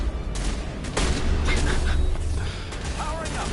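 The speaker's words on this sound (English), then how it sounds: "Do you see Tali, like, just shooting me with a shotgun?" Shotgun blasts from Tali in the sci-fi game Mass Effect, loud popping shots mixed into dense combat noise and music over a steady low rumble, with clanks and bursts throughout.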